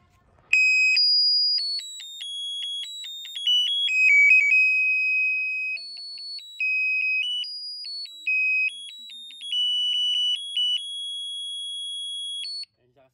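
Electronic beeping from a brake light with sound fitted to a small 125 cc motorcycle, a series of clear high-pitched melodic tones in short bursts and pauses, alone and fairly quiet.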